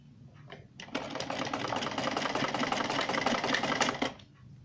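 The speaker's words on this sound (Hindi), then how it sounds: "तो हम किनारे किनारे सिलाई लगाएंगे।" A sewing machine stitching along the buckram edge of a salwar hem, one steady whirring run of about three seconds at moderate volume, with no talk over it.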